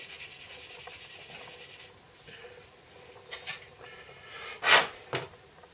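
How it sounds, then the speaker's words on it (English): Soft, scratchy rubbing of a fine sanding stick worked over a small part, in short quiet strokes, with a couple of sharper, louder passes near the end. "I'm going to use a reasonably fine grade of sanding stick here just to polish that piece up"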